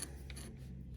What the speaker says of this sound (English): snip off the legs